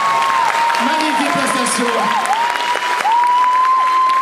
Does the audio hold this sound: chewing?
no